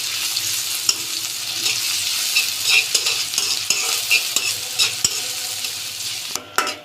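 Chopped onions frying and sizzling in oil in a wok, stirred steadily with repeated scraping clicks of a utensil, loud and close, with no talking.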